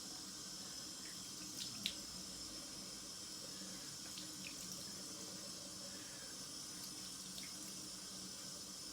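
Water runs steadily from a tap while a razor is rinsed, a continuous hissing stream close by and fairly quiet, with a couple of faint clinks partway through.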